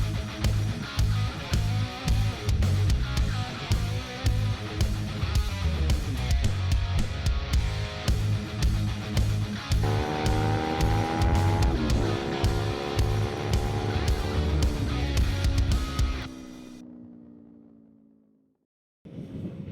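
A Yamaha R7 motorcycle is ridden with its engine loud and near, rising in pitch through repeated revs. The engine then winds down and fades to near silence.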